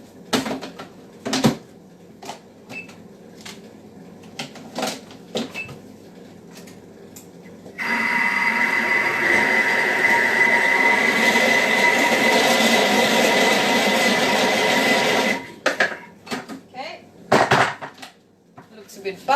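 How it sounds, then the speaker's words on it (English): A blender whizzes eggs for a quick meal, a loud steady broadband whir running about seven seconds in the middle, with speech and kitchen clatter before and after. "I'll just whiz in the eggs."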